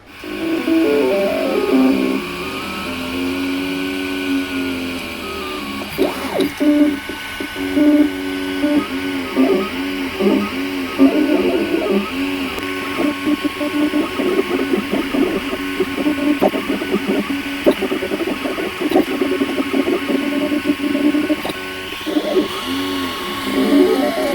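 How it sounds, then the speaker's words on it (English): A 3D printer lays down a TPU (thermoplastic polyurethane) firewall grommet for a Porsche 944 LS swap, giving a steady mechanical whir with shifting stepper-motor tones and rhythmic movement sounds, close and continuous throughout. "I'm going to 3D print it out of TPU, which is thermoplastic polyurethane."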